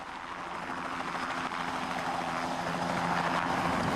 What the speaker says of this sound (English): In a helicopter, you do it by spinning the rotor blades.